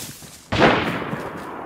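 A single sharp gunshot from the video game DayZ cracks out loud and close, followed by a short decaying tail over a low background hum.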